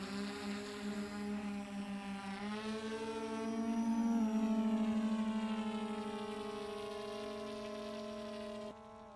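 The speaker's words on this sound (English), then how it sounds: "slide to take off, and watch the aircraft" Dragonfish automated drone aircraft taking off, a steady close motor whine with strong harmonics that rises in pitch around the middle as it climbs, then holds and eases slightly before cutting off near the end.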